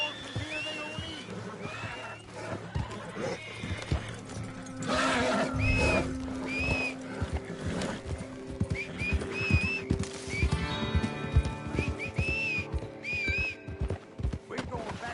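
Horses in the Red Dead Redemption video game neigh with bright rising whinnies several times while hooves clip-clop steadily underneath, with game dialogue and music woven through.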